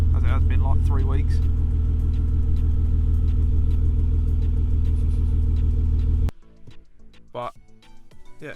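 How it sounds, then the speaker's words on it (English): A BMW E46 engine idles after a cold start, having sat for three weeks. A loud, close, steady low rumble runs for about six seconds with a voice briefly over the start, then cuts off abruptly into quieter scattered sounds. "nice little cold start for you as well, as it has been like 3 weeks"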